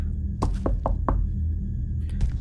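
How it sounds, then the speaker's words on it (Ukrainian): Knocking on a door in the horror game The Missing One, four hollow, close knocks in a quick even run, then two more after a pause, over a low steady hum. "Стукаємо, нам ніхто не відчиняє."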